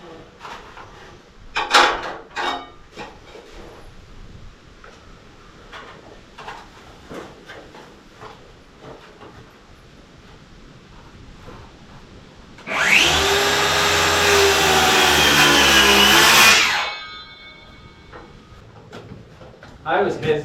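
A battery-powered saw cutting framing lumber while a barn-style building's door opening is reframed, a loud steady whine lasting about four seconds mid-clip, with lighter taps and handling knocks before and after.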